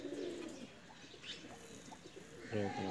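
A female pigeon gives a short, quiet coo near the end, after faint rustling and a low background hum.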